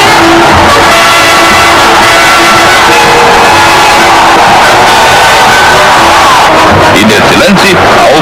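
Large stadium crowd of Fluminense football fans roaring and cheering a goal that was disallowed, a dense, loud, continuous wash of shouting voices.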